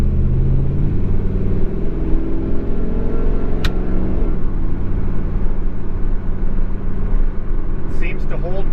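A car fitted with a B&M Pro Gate four-speed GM automatic shifter is downshifted into second gear. The engine drones loudly and steadily, and its pitch changes noticeably partway through.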